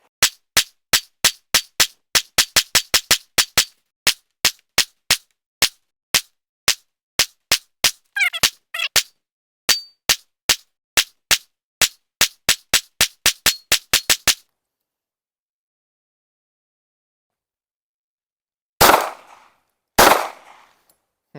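Glock pistol shots at a shooting range, a long run of sharp, close cracks, quick strings in places with some slower single shots, then a pause and two more heavy blasts near the end.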